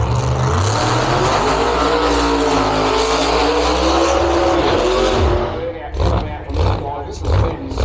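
A Holden HB race car with a 540 block Chevy engine fires up at a drag start line: a loud, close, rumbling idle that holds steady, then breaks into several sharp revving bursts.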